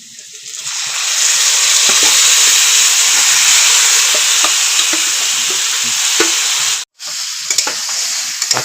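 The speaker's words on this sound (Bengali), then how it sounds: "এখন ভালো করে কষিয়ে নেব।" Goat meat stir-fries loudly with chopped onions and cinnamon in a hot pan, a strong steady sizzle with scraping stirs, cutting out briefly near the end before resuming.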